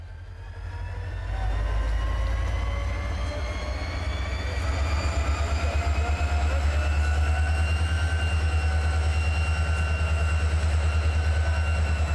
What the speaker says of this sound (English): I could watch train action all day long